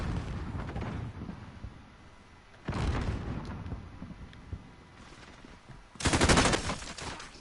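Gunfire in Call of Duty: Modern Warfare on PS4, a continuous rumbling barrage of shots and blasts with two louder bursts standing out, one a few seconds in and a sharper, brighter one near the end.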